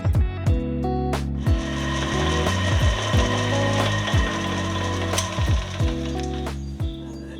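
A lathe cuts grooves into a custom foot peg for a Yamaha XJR1300 motorcycle. Loud rhythmic tonal cutting sweeps recur steadily over a continuous machine drone, with no talking.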